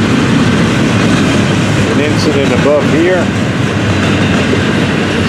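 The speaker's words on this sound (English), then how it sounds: "This train has been waiting since before daylight for a chance to move" An FEC freight train rolls along the tracks in a loud, steady rumble with wheel clatter, while someone talks over it.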